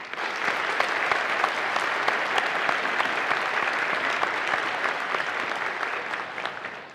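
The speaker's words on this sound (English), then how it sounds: "well-deserved round of applause." A graduation ceremony audience gives a sustained round of applause, many hands clapping in a dense, even wash that continues steadily throughout without speech.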